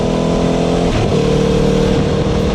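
A 2022 Norton V4SV superbike on track at Mallory Park, its V4 engine loud and close in a sustained high roar with rising and falling revs as it powers along.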